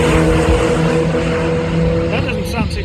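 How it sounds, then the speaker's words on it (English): A 1983 Porsche 924 race car drives past on the Donington Park circuit, its engine loud and close with a sustained droning note that shifts in pitch as it goes by. "That doesn't sound too bad actually for an 80s car"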